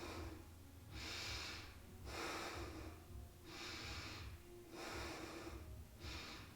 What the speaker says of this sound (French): Aidez-vous de la respiration plus rapide, plus intense, plus bruyante.